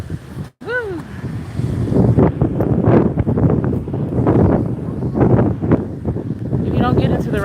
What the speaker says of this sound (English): do you see how the wind even picked up as I'm right here?